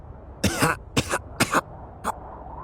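Four harsh, painful coughs in quick succession, close by, with brief pauses between them.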